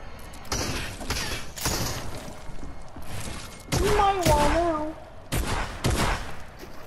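Bursts of gunfire in Fortnite during a zone wars match, several loud volleys separated by short gaps, heard alongside game effects and players talking.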